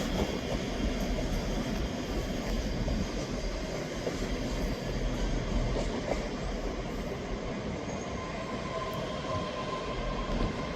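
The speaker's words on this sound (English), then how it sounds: "Arriving in now is the 1354 Scotrail service terminating here at Edinburgh Waverley from North Berwick" A ScotRail Class 385 electric train pulls into Edinburgh Waverley station, a sustained rolling rumble of wheels on rails with a steady motor whine and faint brake squeal echoing under the station roof.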